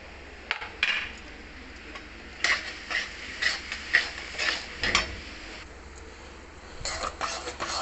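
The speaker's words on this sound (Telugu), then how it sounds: "ఉండలు లేకుండా కలుపుకోవాలి" A spoon stirs melted jaggery with cardamom powder in a pan for puran poli filling, working out lumps in a series of soft scraping strokes at close range, quiet between bursts.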